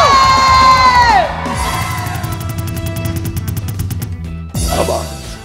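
A TV morning-show studio audience, children among them, cheers, whoops and shouts loudly in a sustained crowd roar, with music and tonal stings cutting in and out over the noise.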